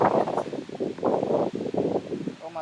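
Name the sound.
wind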